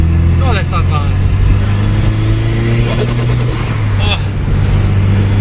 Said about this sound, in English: we're just gonna have a bit of a drive so you guys can actually hear what this car sounds like